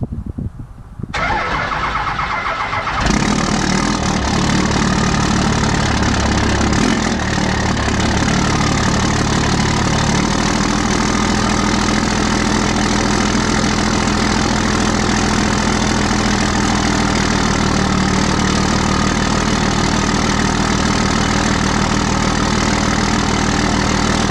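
A Ford 7.3 PowerStroke diesel engine cranks briefly and fires on a cold start, then settles into a loud, steady, close-up idle that runs without interruption.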